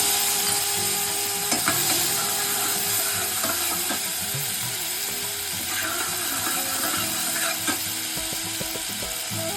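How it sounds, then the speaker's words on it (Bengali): Dried red chillies, peppercorns and whole garam masala sizzle in hot oil as a tempering for a vegetarian curry, a steady close hiss with light clinks of stirring. "শুকনো লঙ্কা গোলমরিচ আর হোল গরম মশলা ফোড়নে দিয়ে দিলাম"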